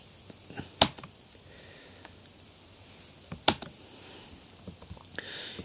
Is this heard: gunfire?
no